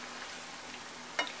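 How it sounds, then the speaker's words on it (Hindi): Potatoes fry in a pan over a high flame with a quiet, steady sizzle and crackle, plus one sharp tap near the end. "आलू को हाई फ्लेम पे फ्राई करें।"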